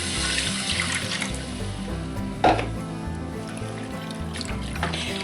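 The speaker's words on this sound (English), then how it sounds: "Now we're going to add our milk. About 3 cups." Milk poured from a container into a cooked golden roux for a four-cheese macaroni and cheese sauce, a continuous close splashing pour with a brief louder splash midway.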